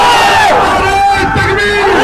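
A large crowd at a political rally roars a slogan in unison, a loud, dense wall of shouting voices that swells and holds for about two seconds.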